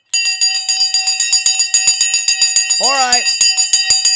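A bell rings in rapid, continuous repeated strikes to open a live stock trading show, loud and close, with a brief spoken remark over it partway through.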